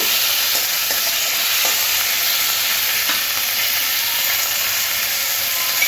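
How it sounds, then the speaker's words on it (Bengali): Chopped tomato and onions fry in a pan for a Bengali chicken curry, giving a loud, steady hiss of sizzling throughout, with faint scrapes of stirring and no talk. "পেঁয়াজের মধ্যে দিয়ে দিচ্ছি কেটে রাখা টমেটোটাও পেঁয়াজের সাথে নাড়াচাড়া করে ভেজে নেব।"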